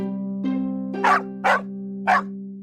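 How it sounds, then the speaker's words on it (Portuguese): A grumpy cartoon dog in an animated Christmas tale of Scrooge barks several times: a low whine rising into three sharp, evenly spaced barks, close and clear over a sustained tonal background. "Rabugento como ele, o cachorro latia."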